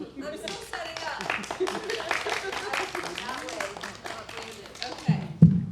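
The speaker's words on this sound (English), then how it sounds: "Keep clapping." A live comedy crowd keeps clapping while a performer sets up: dense, continuous hand claps from several people at mid distance, with voices talking over them throughout.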